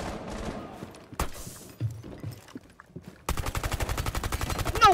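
Gunshots in a video game, with a single sharp shot early on, then a loud rapid string of automatic fire near the end, scattered game sounds in between.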